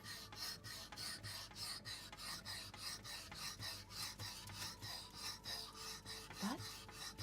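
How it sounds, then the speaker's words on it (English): An axe is ground across a whetstone meant for kitchen knives, producing rhythmic rasping strokes, roughly two per second, close and quiet, with no speech. "This is a whetstone meant for kitchen knives and not an axe."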